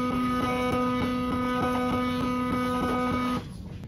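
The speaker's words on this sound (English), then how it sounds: "So I'm going to bring the power lift up 1/4 inch." A motorized router power lift on a woodworking router table raises a large bit a quarter inch, making a steady, close electric whine with a faint regular ticking that stops abruptly just before the end.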